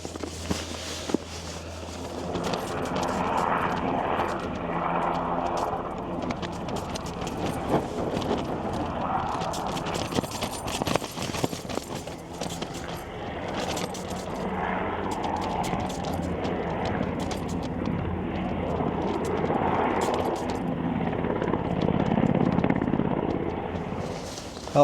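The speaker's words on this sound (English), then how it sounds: "the helicopter's headed off, I presume towards Bangor, although I can still hear it in the distance" A helicopter's rotor drone rumbles at a distance, steady and low, mixed with outdoor background noise at a snowy winter mountain campsite.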